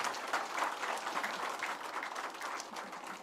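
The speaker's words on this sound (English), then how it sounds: "That young ambassador from Usoma deserves a serious round of applause." An audience at the official inauguration of a regional commission headquarters gives a sustained round of applause, dense, even clapping from many hands without a break.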